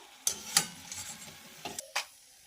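Papdi fries in hot oil over low to medium heat, a quiet background sizzle broken by several clinks and scrapes of a utensil against the pan, with no speech.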